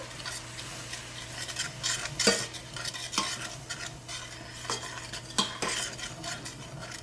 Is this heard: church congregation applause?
no